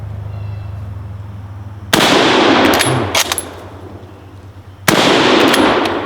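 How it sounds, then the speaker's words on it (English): Bolt-action service rifle fired at a propane tank outdoors: two loud, sharp gunshots about three seconds apart, each followed by a rolling echo, with a faint background hum between them. "Yeah, let's shoot right on it. Let's try that propane tank again."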